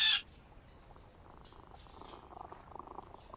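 A cat purring softly and steadily in the Sherlock Holmes vs Jack the Ripper video game, a low rhythmic rumble close by after a brief sharp sound at the start.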